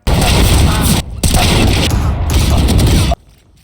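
Loud, dense bursts of gunfire and booming impacts from a competitive shooter video game, running continuously with two brief gaps before cutting off near the end.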